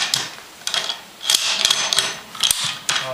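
An M1 Garand rifle's operating rod is slid free during field stripping, giving a string of dry metallic clicks, scrapes and rattles up close, with several sharper clacks of steel parts shifting.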